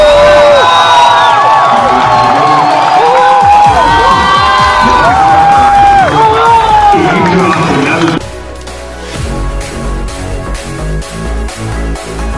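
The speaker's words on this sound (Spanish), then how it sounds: "Acá se viene el grito." Stadium crowd at a football match in Chile shouting and cheering loudly and continuously, with voices and whoops layered across the whole stretch, then a dense roaring chant taking over near the end.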